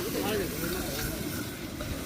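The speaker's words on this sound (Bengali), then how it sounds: "আমাদের মশলা কষা চলছে এখন," Masala spices fry for a meat curry with a steady hissing sizzle, up close and fairly loud; a voice speaks briefly over the frying.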